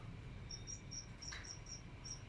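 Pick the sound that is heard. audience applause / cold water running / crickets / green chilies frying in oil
crickets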